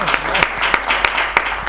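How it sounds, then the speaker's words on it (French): Studio audience applauding for an elderly mother on a television set, a steady mass of claps under a few louder cheers and bursts, continuous and fairly close throughout. "On acclame la maman, on acclame."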